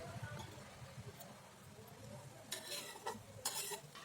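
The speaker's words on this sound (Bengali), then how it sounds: "একটু মিডিয়াম আঁচে রাইসগুলোকে ভালো করে ভেজে নিচ্ছি।" Fried rice being stirred and tossed in a pan over medium heat, with a soft continuous sizzle and scraping utensil strokes growing busier toward the end, fairly close and quiet, no talk.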